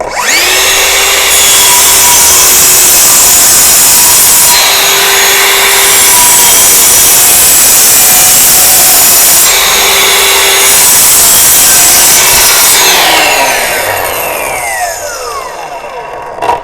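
A Bosch GCM 18V-216 cordless miter saw cuts through wood, its loud steady motor whine and blade noise running throughout, then winding down as the motor slows near the end, with no speech.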